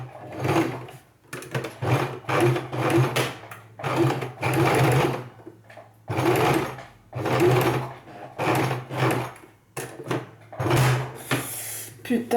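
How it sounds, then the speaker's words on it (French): A sewing machine stitches a thick fabric strap for an asymmetric skirt in short repeated bursts of rapid mechanical whirring, separated by brief pauses, loud and close. "Ensuite, il faut coudre. Attention, le tissu est épais et les aiguilles ça casse."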